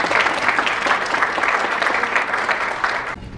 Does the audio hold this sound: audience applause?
yes